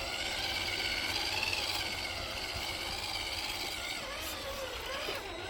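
A Holmes Hobbies Crawlmaster motor drives an RC crawler up an off-camber climb in first gear with the diffs locked, making a steady close electric whine that holds level throughout.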